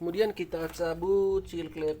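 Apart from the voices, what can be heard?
None of the usual background noises is heard.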